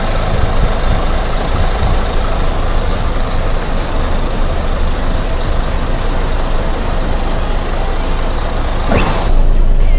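An Isuzu FTR 240 six-wheel truck engine idles steadily at close range, a deep continuous rumble with no talk, ending with a brief hiss.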